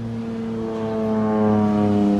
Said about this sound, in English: there's a spray plane over top that's making a lot of noise